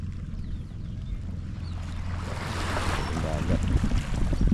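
Steady wind rushes across the microphone with a low roar of sea waves washing on an island shore, a continuous broadband wash that builds slightly toward the end, with no voices.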